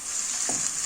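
Minced meat and spices frying in a pan, a steady close hiss of sizzling with a brief soft stir in the middle.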